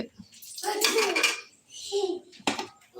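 Metal pots and a colander clatter and scrape in uneven bursts, with a brief voice in between.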